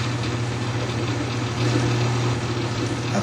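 A lubricity test machine switched on and running, giving a steady, loud motor drone with a constant low hum and a slight rise in pitch partway through, with no other sounds.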